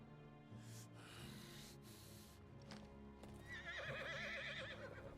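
In a video game, Final Fantasy 16, a horse whinnies loudly with a shaky, trembling call near the end, after hooves clop and shuffle over a low background hum.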